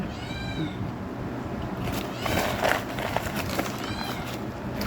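Several cat meows rise and fall over a steady outdoor background, fairly close, with a brief busier stretch in the middle and no talking.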